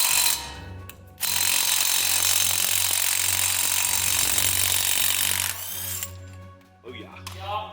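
A cordless impact-style power tool runs loud and continuous for about four seconds while working a car axle nut loose, with a short burst before it and brief voices afterward.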